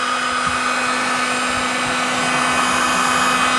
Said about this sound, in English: you're going to need a little paint gun right here